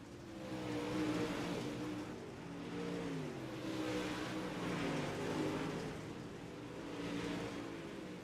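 Several race cars roar around the oval at Kokomo Speedway, a steady engine drone swelling and fading in waves as they pass, with no talk over it.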